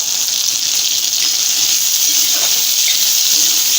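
Small shallots, green chilies and curry leaves sauté in oil over medium heat, producing a steady, even, close hiss of frying with no stirring strokes or voices standing out.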